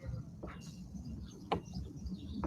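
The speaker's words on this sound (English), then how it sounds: "Can you hear the birds?" Birds chirp outdoors in short, faint calls, a couple of sharper chirps standing out over a quiet background murmur.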